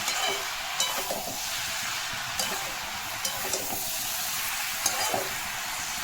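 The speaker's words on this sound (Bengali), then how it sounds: "এবার আস্তে আস্তে এটাকে ভাজা ভাজা করব।" Cabbage sizzles in a pan of refined oil with sugar and turmeric, a continuous close frying hiss broken by occasional soft clicks and scrapes of stirring, with no voices.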